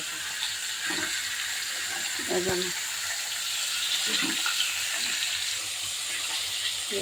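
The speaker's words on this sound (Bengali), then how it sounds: "মুরগির মাংস রান্না করব আলু দিয়ে আলুটাকে আগে একটু হালকা ভেজে নেব লবণ হলুদ দিয়ে ছোট আমি মাছ ভাজা পাশে বসিয়ে দিয়েছি" Potatoes with salt and turmeric and small fish fry side by side in miniature pans, producing a soft, even hiss with a few light taps, while a voice talks over it.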